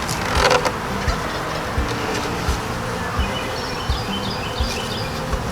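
Honeybees buzzing inside an opened beehive with the feeding super removed, a steady dense hum with faint higher whines, fairly close, with occasional soft knocks from handling.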